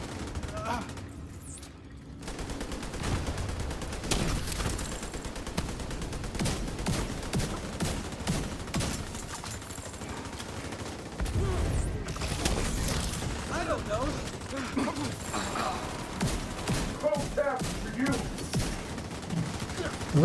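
Gunfire in The Division during PvE farming: rapid bursts of automatic fire and clattering shots, close and dense, running almost nonstop, with a voice talking over parts of it.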